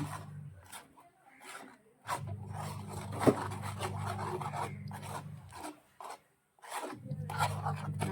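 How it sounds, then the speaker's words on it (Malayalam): A spoon stirs mango pulissery curry in a pot after ground paste goes in, giving repeated soft scraping and rubbing strokes in an uneven rhythm over a low background hum. "നമ്മൾ ഇതിങ്ങനെ ഇളക്കിക്കൊണ്ടിരിക്കണം."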